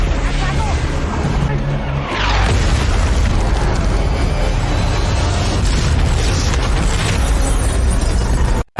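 A bomb goes off in an action film scene involving a car in a jungle: a sudden heavy boom gives way to a loud, sustained rumbling roar that fills the rest of the moment before cutting off abruptly.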